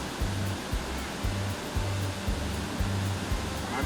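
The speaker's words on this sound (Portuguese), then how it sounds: "tomar um gole de água fresca e límpida direto da fonte" Fresh water flows steadily from a natural spring along a trail, a continuous rushing splash with a low rhythmic gurgle and pulse, fairly close and alone.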